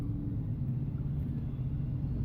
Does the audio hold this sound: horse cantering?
no